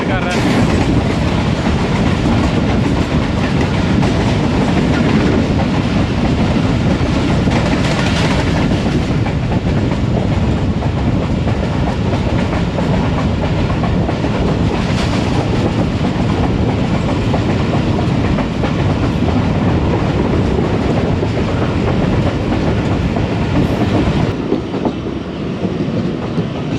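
Pakistan Railways Khyber Mail passenger train, led by locomotive GU20 4561, rolling along the tracks near Raiwind Junction, heard from onboard as a steady, loud rumble and rhythmic clickety-clack of wheels that holds without a break.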